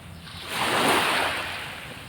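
Ocean waves on the Agusan sea at Cagayan de Oro City, a steady broadband wash that swells to a louder surge midway and then eases back, with some wind noise and no talking.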